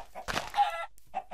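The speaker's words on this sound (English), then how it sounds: "There's another chicken." A chicken clucks in a blocky sandbox video game, a short close burst of squawking clucks heard alone with brief gaps.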